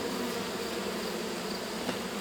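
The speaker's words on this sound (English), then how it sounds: "just kind of shaking the bees to this lower box" A steady, dense buzz of many honey bees, close and continuous, while the colony is shaken down into a lower hive box after a rescue from a wall; a soft bump near the end.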